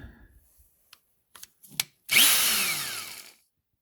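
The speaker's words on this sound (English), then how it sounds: "now I'm just going to take my 3/8 drill bit, drill them out." Power drill boring holes with a 3/8 drill bit into a truck body, a few short clicks and taps first, then one sustained whirring drill run over a second long, close and alone.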